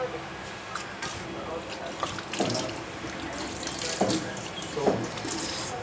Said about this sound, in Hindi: पानी तो अभी यहाँ पर आ ही रहा है